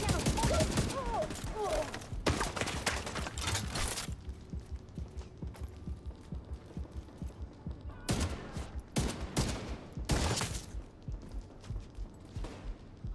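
Gunfire in a video game: clustered bursts of rapid shots in two main volleys, loud and close, separated by a quieter stretch of game ambience.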